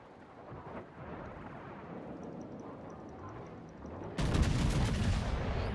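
Battleship main guns firing in the naval game World of Warships, a sudden loud booming blast near the end that rolls into a sustained rumble over a low ambient hum.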